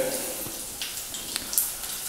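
Sausages coated in batter deep-frying in hot oil give a soft, steady sizzle with scattered crackles and pops, low and close throughout.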